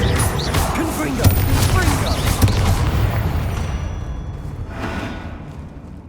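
A Confringo fire spell blasts in Hogwarts Legacy during a spider fight, giving a loud crashing boom with several heavy thuds and rumbling impacts that fade out toward the end.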